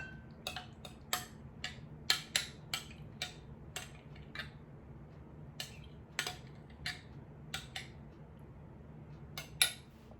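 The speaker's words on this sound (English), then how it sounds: "I'll just mix these two ingredients together." A spoon scrapes and taps through a thick mix of self-rising flour and Greek yogurt in a bowl, giving a run of sharp, uneven clicks close by over a low steady hum, with no talking.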